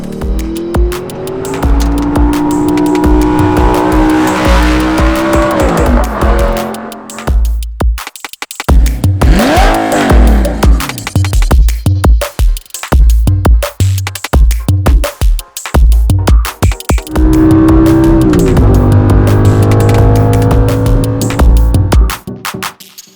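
Audi R8 supercar engine revving hard and pulling away, loud rising and falling engine notes with sharp upshifts, pops and gaps between pulls, then another strong acceleration run; close and powerful with no talking.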